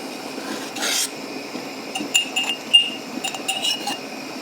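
A metal ladle taps and skims the foam on a pot of strawberry jam cooking without pectin, giving a few light clinks close by, spaced irregularly over a soft background hiss.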